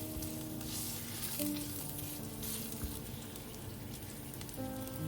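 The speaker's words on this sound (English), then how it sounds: "Once the oil is hot, add the ginger and sauté till fragrant." Ginger sizzles in hot oil over medium-high heat, a continuous crackling fry with fine popping, faint and close, alongside a few light clinks of a utensil.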